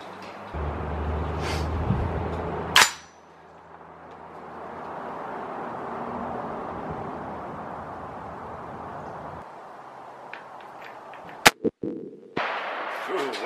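A rifle, an M&P 10, fires at target practice on a range: a sharp, loud report near the start, then a long quieter stretch, with another crisp shot and clicking handling noises near the end.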